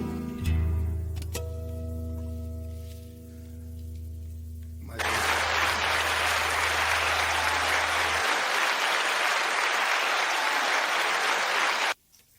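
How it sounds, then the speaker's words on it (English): Sustained musical tones fade out, then loud, dense applause from an audience erupts and continues for several seconds before stopping abruptly. "Didn't know you were going to get all the applause, did you?"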